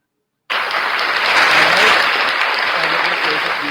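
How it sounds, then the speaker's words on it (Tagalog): A canned applause sound effect on a Philippine entertainment talk show kicks in abruptly after a short silence, then holds as a loud, dense, steady wash of crowd clapping. "okay ba yung palakpak ko? Yung applause ko dyan,"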